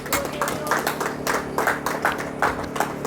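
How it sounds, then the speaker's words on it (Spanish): A church congregation claps together during a worship service, a steady run of rhythmic hand claps in even beats over a low hum from the room. "dale un aplauso al Señor"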